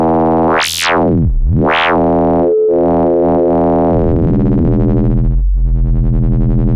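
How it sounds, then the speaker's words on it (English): A buzzy synthesizer saw wave swoops up and down in pitch, then wobbles and bends through several slower sweeps, loud and without any voices. "Now a saw wave modulating."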